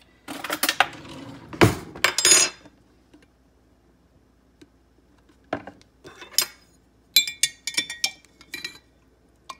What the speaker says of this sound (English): So I'm gonna make sure that's stirred in really, really well